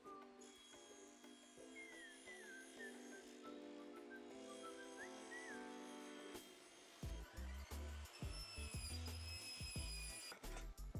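Cutting a wooden board for a homemade scratching board: a quiet stretch with soft tonal background music, then several seconds of rhythmic saw strokes biting through the wood, close and fairly loud.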